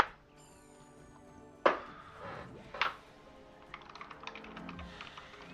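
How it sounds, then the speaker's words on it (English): Typing on a computer keyboard, two sharp key clacks followed by a run of lighter, irregular keystrokes close by, with no talking. "You'll probably hear me typing right here."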